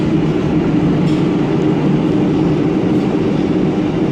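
A New York City subway train rumbles steadily along the tracks, heard from inside the car, with a constant low roar and faint rattles.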